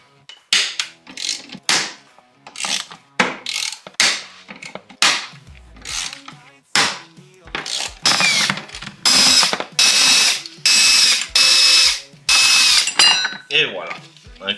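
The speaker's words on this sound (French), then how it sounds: "On va enlever les Torx qui tiennent le jack shaft" A hand ratchet and power tool removing Torx T40 bolts holding the jackshaft on a Polaris RMK Khaos Matryx 9R snowmobile, close and loud, with rapid ratchet clicking bursts giving way to longer steady driver whirs, no talking.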